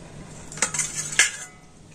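A metal utensil scrapes and clinks against a griddle pan twice as a pitha wrapped in banana leaf is lifted off, brief and fairly close in a quiet kitchen.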